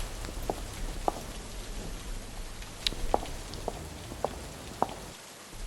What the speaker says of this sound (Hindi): देखो ना कितनी तेज़ बारिश है।